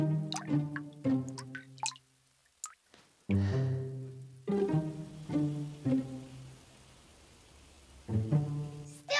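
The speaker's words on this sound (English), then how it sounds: "Keep an eye on those drips, Tim." Rainwater drips and plops intermittently through a leaking roof where a tile slipped, with hollow, resonant splashes landing close by, separated by short quiet gaps.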